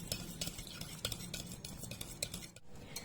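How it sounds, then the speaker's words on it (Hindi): Condensed milk and fresh cream are mixed in a bowl with a spoon, giving rapid, rhythmic clinks and scrapes against the bowl, close and fairly quiet. "अब इसको अच्छी तरह मिक्स करेंगे एक बाउल में"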